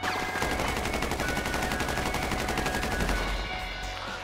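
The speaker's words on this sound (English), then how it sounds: "I did not stop shooting because I knew he was in cover" Rapid, sustained automatic gunfire in GTA V Online during a heist, a dense loud stream of shots running without pause for several seconds.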